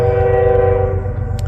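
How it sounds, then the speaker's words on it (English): A train rumbles past close by while its horn blares a loud, sustained chord that fades slightly toward the end, heavy low rolling noise underneath and no talking. "Sorry for the train."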